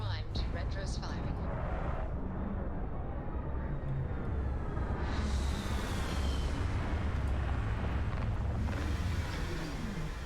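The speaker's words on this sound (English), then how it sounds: "Landing Extructs primed. Retros firing." Starfield spaceship retro rockets firing during a landing: a sustained deep roar and rumble that swells into a louder hissing thrust midway, with a voice speaking over it early on.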